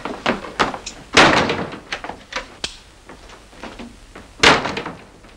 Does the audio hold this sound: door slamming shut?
yes